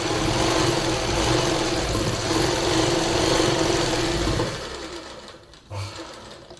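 Electric sewing machine stitching palazzo pant panels together, a loud continuous close-up motor whir for several seconds before it winds down, followed by a brief soft bump.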